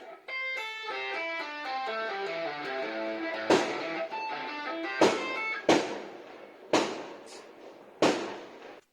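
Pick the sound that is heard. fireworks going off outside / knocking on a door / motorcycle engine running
fireworks going off outside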